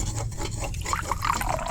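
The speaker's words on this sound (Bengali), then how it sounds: "এখন সব কিছু মিশাই, একটু একটু জল দিন।" Water being added little by little to gram-flour batter for crispy tomato pakoras, soft wet mixing and trickling sounds, close and quiet.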